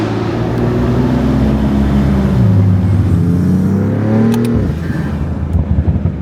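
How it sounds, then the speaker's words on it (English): A 4-liter hypercar with a near-straight-pipe exhaust revs loud and close, its engine tone climbing through gear changes with sharp pitch shifts, and a burst of boost and exhaust crackle follows as the revs drop. "now that 4-liter sounds the way it should"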